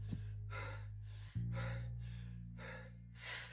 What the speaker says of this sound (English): someone burst into the room, gasping for air